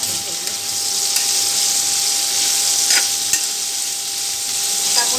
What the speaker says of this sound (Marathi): मिरची घालून 2 मिनिटं मिरची हलवून घ्यायची तेलात.